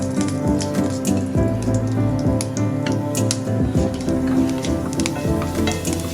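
Mustard seeds and rice in hot coconut oil, crackling and sizzling loud and close with dense popping spatters throughout, and no talking.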